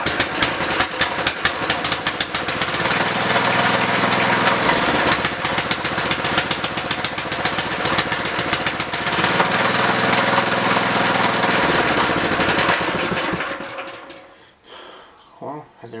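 Small plate compactor engine that had trouble starting, running steadily at idle or slightly above with a loud, close, rapid mechanical chatter that continues for about thirteen seconds, then cuts off and falls quiet.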